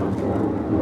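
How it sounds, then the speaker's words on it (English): A low-flying airplane passing overhead near a home about ten minutes from an airport, heard as a loud, steady low roar that fills the whole moment with no speech. "That airplane is super low."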